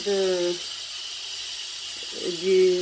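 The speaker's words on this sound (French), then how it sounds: "maintenant la vapeur qui sort" Steady, loud steam hiss escaping from a Cookeo electric pressure cooker after cooking quail kebssa, with brief tonal sounds or voices near the start and end.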